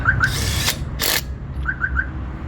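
Cordless DeWalt DCF921 impact wrench driving car wheel bolts back on: two short, loud rattling bursts of hammering with faint clicks in between, no talking.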